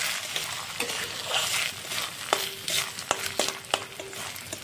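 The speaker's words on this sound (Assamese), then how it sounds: "অলপ ভাজি লৈ আছোঁ।" Bora rice fries in oil with cinnamon, cardamom and bay leaf in a wok, giving a soft continuous sizzle broken by sharp clicks and scrapes of a spoon stirring the grains.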